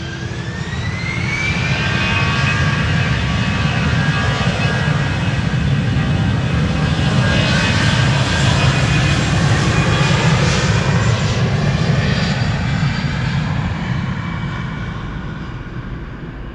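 An Airbus A320 departing Amsterdam Schiphol roars loudly and continuously, the engine whine swelling then slowly fading with rising and falling tonal sweeps, heard close with no talk.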